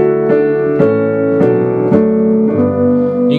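Upright piano setting on a Nord Stage 2 keyboard: five evenly spaced chords, each struck and left to ring, with a slightly thin tone, loud and close with no voices.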